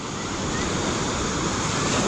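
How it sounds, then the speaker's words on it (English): Waves crash steadily on a beach, a loud, continuous wash of surf and white water with no pauses, alone with no voices. "not only the sound of the waves crashing on the beach"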